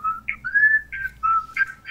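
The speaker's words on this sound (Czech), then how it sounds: "Tam něco píská. No, to pískal můj mobil" A mobile phone whistles in a studio, giving a string of short, clear electronic whistle tones that rise and fall in a quick melodic pattern, fairly close and heard without talk.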